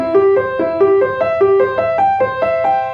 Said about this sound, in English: Now this is a chord. This is a broken chord.